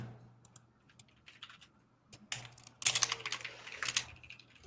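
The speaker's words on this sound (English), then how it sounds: "Finn is even typing." Keyboard typing during a Minecraft podcast, a run of soft key clicks that grows into a louder, faster burst of clattering keystrokes over a low steady hum, with no one talking.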